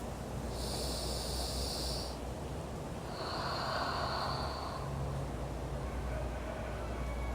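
Two slow, deep breaths, the first a long hissing inhale and the second a breathy exhale, sit close over a low steady hum in a yoga session, with no talking.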